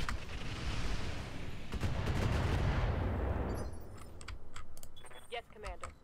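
LRM missile launchers and other weapons fire in the mech combat game Roguetech, giving a dense, loud roar of launches and impacts that fades into scattered clicks and rattling, with voices talking briefly.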